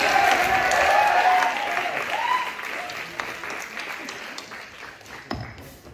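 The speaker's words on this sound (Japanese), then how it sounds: "ギターソロに本当に拍手をお願いします" Live concert audience applauds after a guitar solo, dense clapping loud at first and slowly thinning, with some voices and cheers mixed in.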